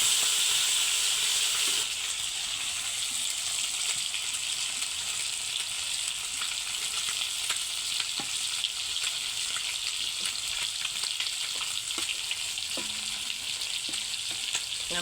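Fish fry in hot oil in a pan with a steady, dense sizzle and hiss, joined by occasional small pops and clinks, nearby and continuous throughout, with no talking.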